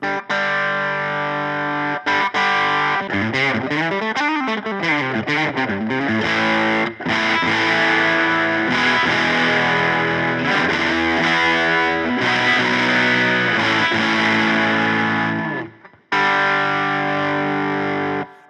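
Buzzing Bugs Stargazy preamp pedal on its thin, jangly body setting, giving a bright distorted guitar that plays a steady run of chords and notes close up, with a brief drop out near the end and no talk.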